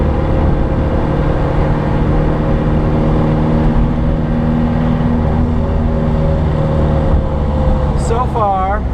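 A diesel-swapped Ford Ranger pickup accelerating hard under full throttle, a loud steady engine drone with rising harmonic tones, close and constant, with a voice talking over it throughout.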